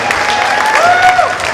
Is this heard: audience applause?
yes